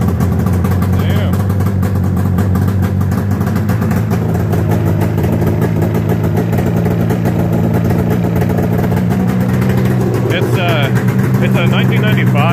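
A 1995 snowblower engine runs with the choke turned off, giving a loud, steady, unbroken drone that holds close and even for the whole stretch.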